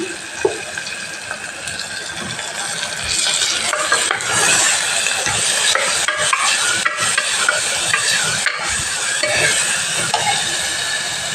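Ginger-garlic paste stirred into a hot pan for mutton curry, a continuous bright sizzle with scraping spoon strokes and wet sputtering, close and steady throughout, with no talk.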